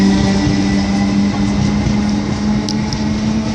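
Class 319 electric train at Manchester Airport station, a steady loud rumble with a humming motor tone running throughout, close by and with no talk over it.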